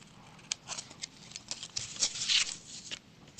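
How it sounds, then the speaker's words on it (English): Scissors snipping around a paper lobster craft, a quick run of crisp, close cuts in an uneven rhythm with no talking. "I just get out my scissors and then I just give him a very careful trim round that bit that hasn't come away"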